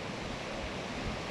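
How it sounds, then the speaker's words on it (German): Strong wind blowing across an exposed highland campsite, a steady broadband roar buffeting the microphone close up, continuous and loud with no pauses or voices. "Ist recht windig, wie das halt so im Hochland ist."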